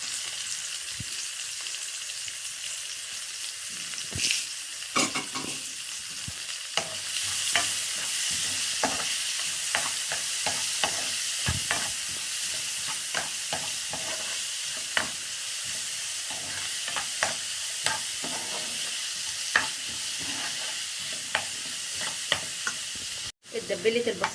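Onion fries in a pan with a continuous soft sizzle and frequent spatula scrapes and taps, close and unhurried, running without speech for over twenty seconds.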